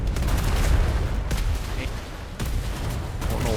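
Cannon fire from a naval battle in a video game, a dense, rumbling barrage of booms that stays loud throughout, with voices talking over it.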